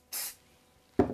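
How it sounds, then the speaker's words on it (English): CA glue accelerator sprayed from an aerosol can onto a door trim miter joint: a brief crisp hiss, then a short duller spritz a moment later, close and clear with no talking. "So it's just a matter of spraying on the accelerator"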